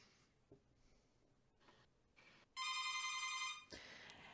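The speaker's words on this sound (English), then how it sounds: "The doorbell is ringing" A doorbell rings indoors as a single sustained electronic tone lasting about a second. It is clear and fairly loud against the quiet background, with faint room noise before and after and no talk.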